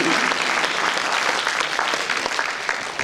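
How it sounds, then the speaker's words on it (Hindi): An audience claps steadily at a lecture on heart and mind in Vrindavan, a dense, sustained round of applause that fades slightly toward the end. "ताली मार दिया करो, कंजूसी मत किया करो"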